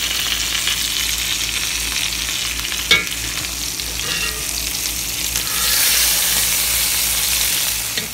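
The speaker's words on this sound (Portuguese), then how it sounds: "fritando as almôndegas" Meatballs fry in a pan for a home-cooked Sunday meal, a steady loud sizzle and crackle running throughout, with a brief sharp clink of a utensil stirring near the start and the hiss swelling toward the end.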